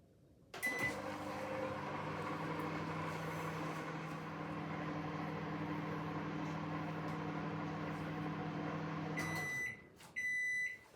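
A microwave oven runs with a steady, even hum for about nine seconds, then cuts off and gives a few short, high electronic beeps.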